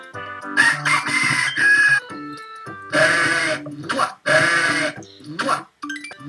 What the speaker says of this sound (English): Oh boy, a rooster.